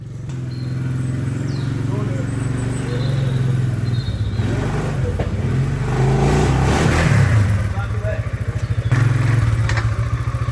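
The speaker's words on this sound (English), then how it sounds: "we use the quad bike instead" A quad bike engine idles and revs loudly up close while pushing a cattle crush, its pitch rising and falling with clattering metal, and voices talk over it.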